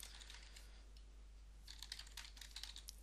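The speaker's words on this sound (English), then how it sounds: "You'll have to forgive my typing." Fingers type on a computer keyboard while code is entered into software, a quiet, uneven patter of key clicks with short bursts and pauses over a steady low hum, with nobody speaking.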